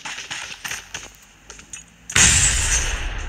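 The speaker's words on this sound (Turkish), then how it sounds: "3. Dünya Savaşı'nda böyle bir patlama olmadı lan." In PUBG Mobile, a sudden loud explosion bursts in after a stretch of scattered thuds and game sounds, its broad roar sustaining and slowly fading to the end.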